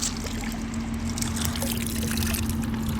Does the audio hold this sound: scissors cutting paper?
no